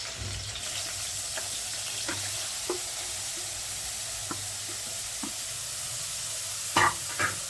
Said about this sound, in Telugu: నెయ్యి ఇలా హీట్ ఎక్కాక మనం అందులో తురిమిన పన్నీర్ వేసుకుంటామండి.